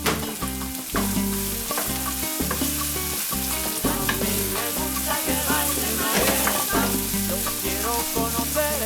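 Peppers and tomatoes fry in a pan with a steady, close sizzle. Music plays loudly over the sizzle throughout.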